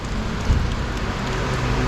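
Rain pours steadily onto Rua de S. João de Brito, a street in Macau, making a dense, even hiss with a soft thump partway through.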